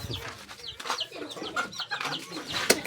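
Serama chickens and chicks cluck and peep in a busy, overlapping chorus of short calls and chirps, close and moderately loud, with faint background noise.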